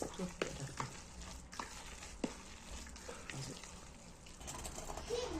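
Zucchini batter frying in a hot pan, a soft steady sizzle with faint crackles and a few scraping clicks, low and continuous throughout.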